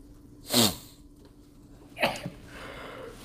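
A single sharp, close sneeze bursts out in a quiet room, followed a moment later by a smaller second burst.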